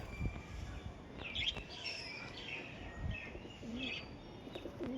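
Pigeons land nearby and coo, giving soft, faint coos and light chirps against a quiet background hiss.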